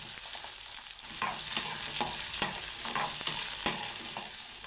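Onions sautéing in oil in a kadai on the stove, a steady close sizzle with regular scraping stirs of a spoon every half second or so, no voices.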